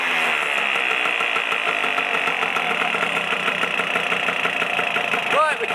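A Lambretta scooter engine fitted with a freshly built RT kit runs at a steady idle, a continuous buzzing two-stroke drone close by that holds even throughout, with a slight rise near the end.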